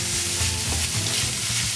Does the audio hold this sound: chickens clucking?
no